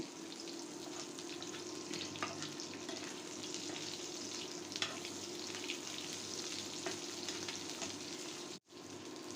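Dried shutki fish frying in a little oil in a pan, a steady soft sizzle with faint crackles and stirring scrapes throughout, moderately quiet and without talk, with a brief dropout near the end.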